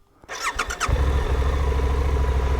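A Suzuki V-Strom 800 motorcycle's starter whirs in a few quick bursts before the engine catches and settles into a steady, close, throbbing idle.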